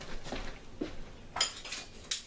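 A measuring spoon clinks against a dish while cornstarch is added for edible cake glitter, a few light metallic taps spaced out over a quiet background.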